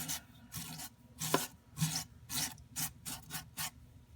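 A brush swiped repeatedly over grime on an aquarium filter, a series of about ten soft, close rasping strokes in a steady rhythm, with no talk.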